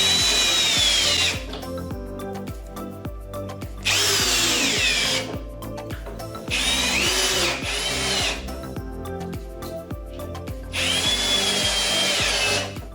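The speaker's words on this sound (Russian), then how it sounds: "Дальше прикручиваются ножки." A power drill screws legs onto a kitchen cabinet drawer, with loud, close bursts of whirring motor that start and stop several times, interspersed with lower grinding and handling noise.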